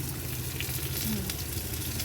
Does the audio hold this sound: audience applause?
no